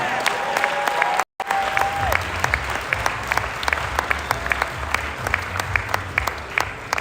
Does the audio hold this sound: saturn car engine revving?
no